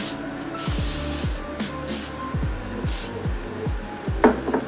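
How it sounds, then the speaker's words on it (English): Hairspray hisses from an aerosol can in several short bursts, close and loud, with a steady motorized whir and a brief rustle near the end. "And it's just me with the hairspray like,"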